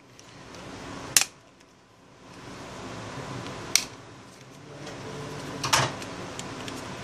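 Someone removes the back panel of a Nokia Lumia 520 phone: three sharp plastic snaps or clicks, each a couple of seconds apart, close by over a faint steady hiss, with no speech.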